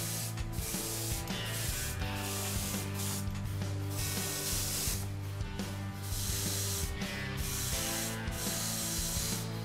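Airbrush spraying paint onto a resin Alien Queen Chestburster model kit, a steady hissing spray with short pauses and bursts, close and continuous under a background of music, with no talking.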